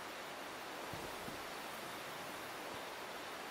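A river flowing in the game Dark Souls Remastered, a steady broad rushing wash of water, constant and fairly even, with no voices over it.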